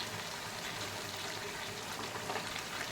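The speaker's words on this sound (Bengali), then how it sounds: "তারপর ম্যারিনেট চিকেন দিয়ে দিলাম এবার চিকেনটা দিয়ে নাড়াচাড়া করতে থাকলাম" Marinated chicken added to partly cooked masala in a pan and stirred, giving a steady, soft sizzle and bubbling that runs evenly for about three seconds without voices.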